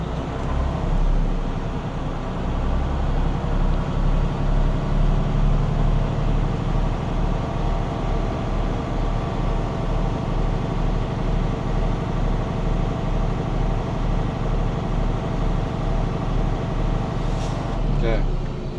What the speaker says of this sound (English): continue to build up until governor shut off so you have enough air pressure to do the moving test